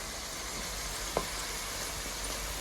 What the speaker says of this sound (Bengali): আস্তে আস্তে ভাজা হয়ে আসছে